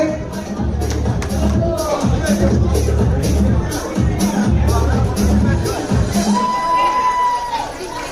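Crowd applause and cheering fill the hall at an award ceremony for a nine-a-side volleyball invitational tournament held in a restaurant banquet hall, steady and loud throughout with a murmur of voices underneath.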